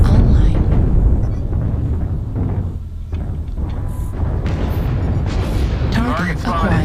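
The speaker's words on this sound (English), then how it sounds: "Artillery strike online." Artillery strike explosions in MechWarrior Online rumble as a series of deep booms that fade out, with a synthetic announcer voice and players talking over them.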